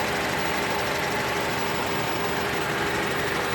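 A 2003 Honda Accord's 2.4 liter VTEC dual overhead cam four-cylinder runs steadily at idle, an even, close mechanical hum with no other sounds.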